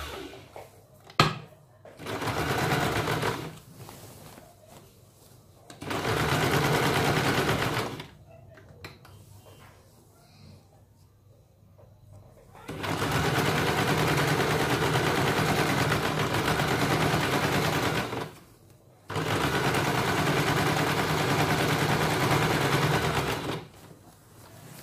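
A sewing machine runs in long steady bursts stitching together the seam of a 10-inch salwar, loud and close, with quiet pauses between runs.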